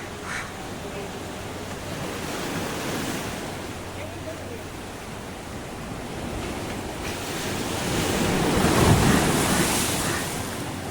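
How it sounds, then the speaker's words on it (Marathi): Rough, churning sea waves surge against the jetty at Malvan, a steady broadband roar with gusting wind buffeting the microphone, swelling louder toward the end; no speech. "समुद्र पूर्ण खवळलेला आहे"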